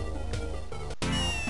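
Cat meow sound effect from the video game Wario Land 4, a few short electronic meows over looping game music, with a brief cut partway through.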